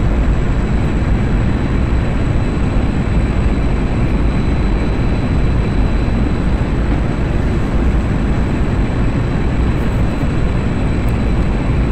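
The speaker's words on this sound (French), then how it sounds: "Moi j'utiliserai la post-combustion dans un second temps à la fin, pour qu'il s'arrache du sol." Simulated MiG-21bis jet engine on takeoff in DCS with afterburner engaged: a loud, unbroken roar heavy in low rumble, with a thin steady whine above, constant for the whole stretch.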